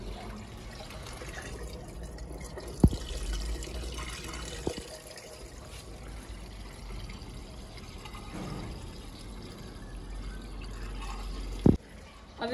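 Water is poured over rice to rinse off the cloudy starch, a steady low wash of running liquid with a couple of sharp knocks against the pot, recorded fairly faint in a home kitchen.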